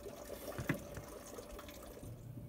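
Coolant draining from a 2009 Volvo C70, a faint steady trickle of liquid pouring into a container, with a few soft drips and splashes.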